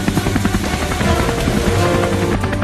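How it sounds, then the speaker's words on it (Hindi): A helicopter in flight, heard as a loud, constant rotor thump and engine roar that stays close and steady throughout, with no talk over it. "अब हेलीकॉप्टर को कौन चलाएगा?"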